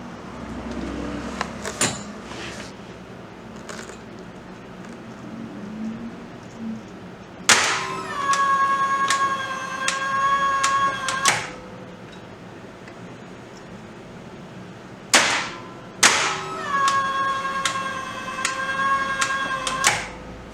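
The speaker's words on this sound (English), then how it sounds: "At first, we trip the breaker manually." A Hyundai HGN20 air circuit breaker fed from a 220-volt AC test supply is tripped by hand, with two sharp mechanical clacks followed by long ringing metallic tones, all close and clear over a low hum, with no talking.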